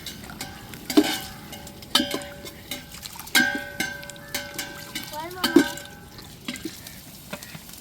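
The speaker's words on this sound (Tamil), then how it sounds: "இப்போ அண்டாவில் நான் போட்டிருக்கிற வெங்காயத்தை கிண்டிக்கிட்டு இருக்கிறாப்புல" Onions being stirred in a large pot while cooking biryani for a child's birthday, with repeated scraping and stirring strokes over a low sizzle, bursts spaced about a second apart.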